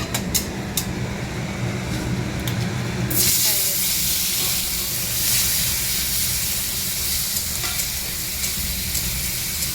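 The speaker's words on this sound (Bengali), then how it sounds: "আর এখানে মাছ আছে, মাছ ভাজা হবে।" Fish frying in a pan gives a steady, close hiss and sizzle that grows louder and fuller partway through, with occasional stirring clinks and no talking.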